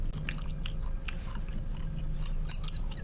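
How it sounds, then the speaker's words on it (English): Chewing gum on a starship bridge in a sci-fi series, steady moist mouth clicks and smacks repeating through the whole stretch over a constant low background hum. "It is called gum."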